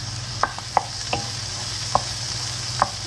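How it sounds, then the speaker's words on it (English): Garlic and onions fry with browned pork in a pan under a steady low sizzle, with a few sharp utensil taps at irregular intervals against a constant background hum. "I go to add the garlic and onions."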